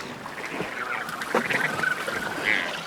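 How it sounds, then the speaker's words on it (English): Wandering albatrosses at a breeding colony give harsh, honking calls that overlap in a busy chorus, with a few sharper cries standing out near and clear. "there's mobs of the birds I've come to see, these glorious albatrosses."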